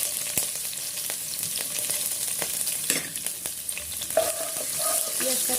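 Chopped onion fries in oil with bay leaf and whole spices for khichuri, a steady close sizzle with crackles and intermittent stirring scrapes of a spoon against the pot.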